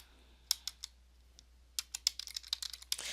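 Short bursts of computer keyboard typing, sharp close key clicks, first a few scattered taps and then a quicker run of keystrokes, with no talking.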